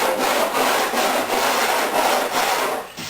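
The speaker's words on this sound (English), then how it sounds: "sand off the excess along the side here" Sandpaper on a stiff board rubs back and forth along a faired wooden seam, giving loud, close, rhythmic rasping strokes at a steady pace of roughly two per second.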